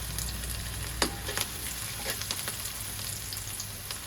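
Onions browning in a pan for vegetable pulao give a continuous, fairly soft sizzle, broken by a few crisp taps and scrapes of stirring.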